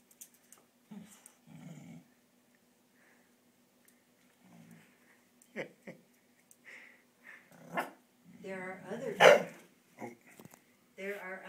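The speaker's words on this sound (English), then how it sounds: "She barked at him and he barked back at her." Two dogs trade sharp barks and low growls indoors beside a bucket of snow, scattered bursts between quiet pauses, with people talking now and then.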